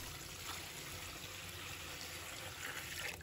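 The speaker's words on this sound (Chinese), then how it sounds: "倒入清水" Clean water pours steadily into a basin of trimmed celery, a soft continuous splashing trickle heard close up and alone, with no talking.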